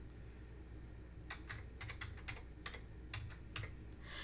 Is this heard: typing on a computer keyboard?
yes